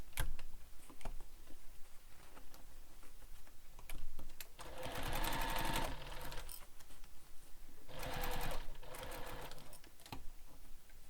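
A sewing machine stitches a gusset seam on a bowler bag in two bursts of rapid mechanical whirring, separated by pauses with soft clicks and handling noise, close and fairly quiet.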